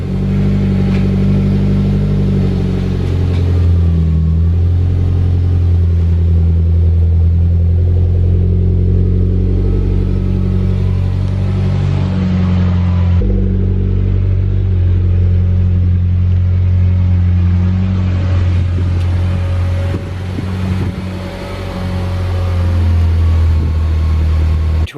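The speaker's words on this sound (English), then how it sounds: "So I'm going to go ahead and move this car and continue with the next step." 2008–2015 Mitsubishi Lancer engine running close by as the car is reversed into position, a loud continuous low rumble with shifting revs and a brief dip partway through.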